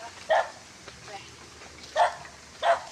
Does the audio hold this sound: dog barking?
yes